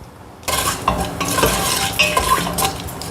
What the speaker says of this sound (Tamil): அது பொரியும் பாருங்கள் கிராம்பு